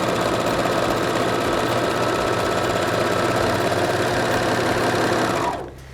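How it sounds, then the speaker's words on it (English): A serger sewing machine running a rolled hem with woolly nylon thread, a loud, close, rapid mechanical whirring with a steady rhythmic knock that runs unbroken, then slows and stops at the end. "it stitches very slowly because we're making a very tight stitch"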